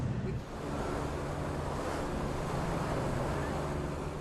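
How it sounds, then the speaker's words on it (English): Powerful ocean surf breaking over the jagged reef at Flint Island, a Pacific atoll, roars as a steady, loud wash of crashing water with wind noise. "The only way for him to reach Flint Island is to swim through powerful waves and risk being ripped to shreds on the jagged reef."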